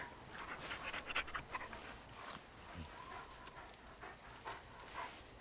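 A dog pants softly in the video game Dragon Age: Origins, a faint rapid breathing with a few small whimpers and yips over quiet background ambience.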